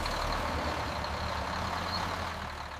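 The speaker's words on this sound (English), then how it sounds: "That truck is very loud." A heavy truck roars loudly nearby, its deep engine rumble filling the air, then fades slightly as it moves past.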